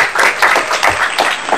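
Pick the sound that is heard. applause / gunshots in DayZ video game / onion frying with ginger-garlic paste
applause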